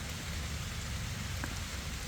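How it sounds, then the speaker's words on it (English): Steady rain falls outdoors on a person's head and nearby surfaces, a continuous even hiss with a soft low rumble beneath, and no voices. "it's raining on my head"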